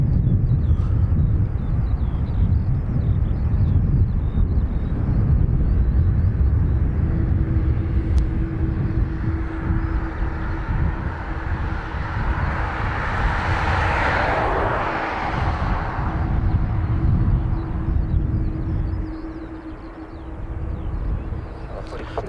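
A CASA C295 turboprop lands at Dublin Airport, its steady engine roar swelling to a broad peak at mid-clip over constant low wind rumble, then easing as the aircraft passes.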